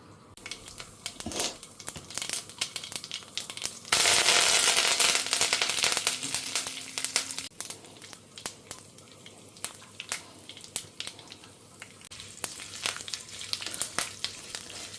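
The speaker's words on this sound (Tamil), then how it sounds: "இப்போ நம்ம கடுகும் வெந்தயத்தையும் தாளிச்சிக்கலாம் பொரியட்டும் அது" Mustard and fenugreek seeds spluttering in hot oil for a drumstick kuzhambu: rapid crackling pops throughout, swelling into a loud dense hiss for a few seconds midway before settling back to scattered popping.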